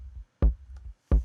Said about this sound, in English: Now it starts to sound like a kick drum.